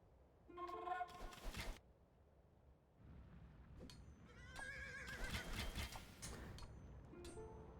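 Horses neigh in Age of Empires II, with short whinnies and clip-clopping hooves mixed among game sound effects during a battle around a fortress gate, moderate in level.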